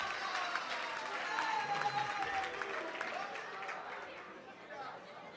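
A church congregation in a sermon setting cheers and applauds, a dense wash of clapping and excited crowd voices that stays loud and steady throughout, with scattered shouts rising above it.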